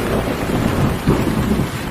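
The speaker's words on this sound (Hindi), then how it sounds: "उसके बाद अगले दिन से बहुत तेज बारिशें शुरू हो गई।" Heavy, steady downpour with a low rumbling roll of thunder beneath it, a continuous loud wash of rain sound effect for a story about an onion farm, no voices.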